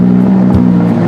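A stock, unmodified Lamborghini Huracán with a 600-horsepower 5.2-litre V10 idles loudly and steadily close by, a deep even drone with a slight swell of revs partway through and no voices.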